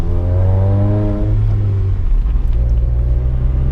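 Close, loud engine of a manual-swapped VW MK7 GTI on its first drive, revving up with rising harmonics that drop at a gear shift, then a steady lower drone as it keeps pulling, with no talking.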